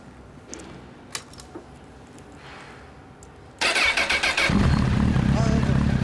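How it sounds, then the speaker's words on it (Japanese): A 2004 Honda CBR1000RR Fireblade with a Moriwaki exhaust starting up: quiet background and chatter, then the engine fires with a few sharp revs and settles into a loud, close rumble. "森脇サウンド聞かせてもらえますか？"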